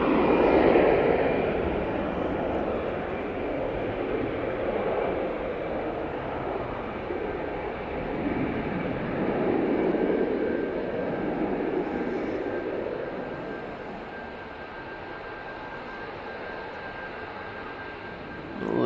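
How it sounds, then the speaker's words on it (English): A Ryanair airliner landing at Manchester Airport gives a sustained engine roar and rumble heard from a distance, swelling and easing over the span, with a steady whine running underneath. "We're going to get the Ryanair. Might get a bit of a firm landing here."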